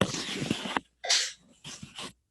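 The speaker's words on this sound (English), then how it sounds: "I'm going to cough just a second." A single cough from a speaker during a presentation, close and abrupt, followed by a couple of short breathy throat-clearing sounds, then quiet.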